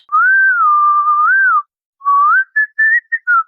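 A single person whistles close by: one long wavering note, a short pause, then a string of quick rising and falling chirps.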